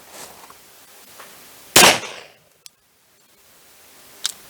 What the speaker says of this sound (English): Let's take another shot.